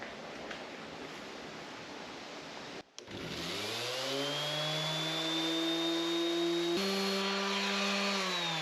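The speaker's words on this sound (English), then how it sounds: "you start sanding, you want to keep the device moving across the surface" A random orbit sander on wood whirs steadily, a brief cut at the start, then a rising, sustained motor drone with a strong hum, loud and close.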